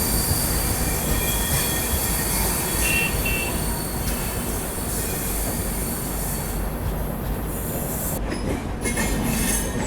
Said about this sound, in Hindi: आप ट्रैक साउंड चेक करिए ज़रा।